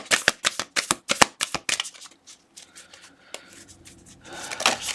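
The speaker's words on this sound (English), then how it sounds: "I shuffled all these, so I just want one card" Tarot cards are shuffled by hand up close, a rapid run of crisp riffling flicks that thins into softer scattered card slides, with a short burst of shuffling returning at the end.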